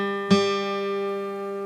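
A single guitar string plucked once while its tuning peg is adjusted, ringing close and clear with a sustained, slowly fading tone and no talking.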